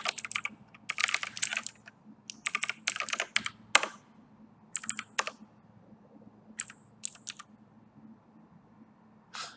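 Bursts of computer keyboard typing while writing code for slideshow software, quick clustered keystrokes in short runs separated by pauses, close and fairly crisp over a low steady hum.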